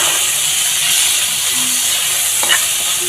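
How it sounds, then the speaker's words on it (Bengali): Shrimp frying in a pan with salt and turmeric, a continuous close sizzle with a brief stirring scrape near the end. "এবারে চিংড়ি মাছগুলো লবণ হলুদ দিয়ে ভেজে নেব।"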